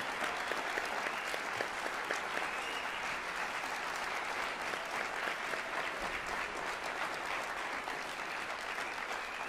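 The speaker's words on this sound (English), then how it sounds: "let's give them a round of applause, should we?" A concert hall audience at a university wind symphony concert gives sustained, even applause for nearly ten seconds, a steady wash of many hands with no letup and no talking over it.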